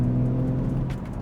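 A BMW 135i with its 300-horsepower twin-turbo engine, still cold, hums steadily at low throttle while cruising, a smooth continuous drone heard from inside the car.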